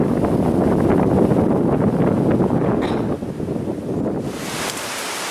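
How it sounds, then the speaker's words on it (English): Strong wind on an island buffets the microphone with a loud, continuous roar that gusts and eases slightly, with no other sound clearly standing out. "The weather is now windy"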